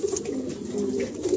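A Lahore female pigeon coos in a low, continuous murmur up close, with faint ambient chatter behind.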